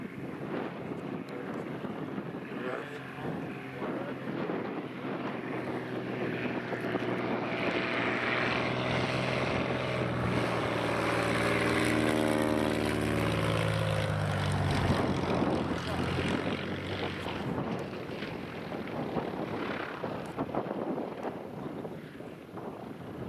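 A propeller bush plane approaches a gravel bar in Alaska to pick up caribou hunters. Its engine drone rises with a Doppler-like shift and grows loud before fading, under wind buffeting the microphone.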